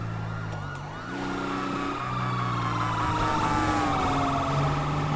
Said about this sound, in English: I just heard a bunch of sirens kick up.